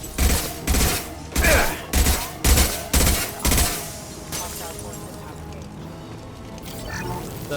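Gunfire from cryo ammo in Mass Effect 2: six heavy, booming shots in a steady paced rhythm over the first few seconds, then a lingering rumbling game ambience with no further shots.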